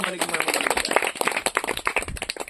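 A church congregation claps quickly and unevenly during a sermon, a dense patter of hand claps with a voice audible amid the applause.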